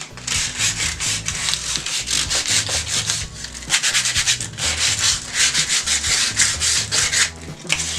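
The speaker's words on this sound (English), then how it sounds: "See, it's starting to sand off," Stain being sanded off a wooden panel, close rhythmic scratchy strokes back and forth in uneven bursts, moderately loud and heard alone.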